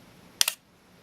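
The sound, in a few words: Olympus XA4 film camera shutter firing, long exposure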